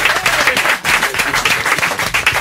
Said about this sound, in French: Et t'as un beau cadeau, on t'applaudit.